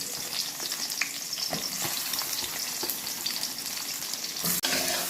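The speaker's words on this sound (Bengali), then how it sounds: "বেগুনটা ভেজে নিচ্ছি।" Brinjal pieces frying in hot oil give a constant close sizzle with light bubbling crackle and occasional stirring, ending in a brief sharp knock.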